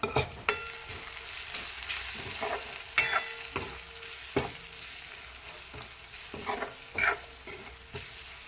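A spoon repeatedly scrapes and knocks through a cauliflower curry masala with turmeric and salt in a pan, in a steady rhythm of strokes over a soft, continuous sizzle. Nobody talks.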